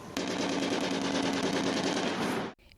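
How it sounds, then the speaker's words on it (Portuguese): Rapid automatic gunfire rattles in one sustained, loud burst from clashing criminals in the Madureira neighborhood of Rio de Janeiro's north zone, then cuts off abruptly. "O som dos tiros não deixou os moradores dormirem."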